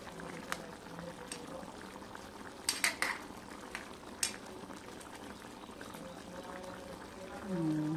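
Thick sauce simmering in a covered pot, a steady low bubbling that stays even for the whole stretch, with a few clinks of utensils against the pot and a rising whine near the end.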